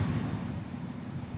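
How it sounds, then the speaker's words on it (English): Wind blows outdoors in downtown Nicosia, Cyprus, a steady, noisy rush with low rumbling buffeting across the microphone, with no voices. "Very windy, very noisy."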